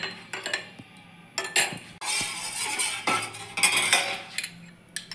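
A spoon mixes water into a bowl while rasmalai is being made. There are close metallic clinks and scrapes against the bowl, some short taps and then a longer stretch of stirring.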